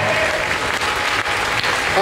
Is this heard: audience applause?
yes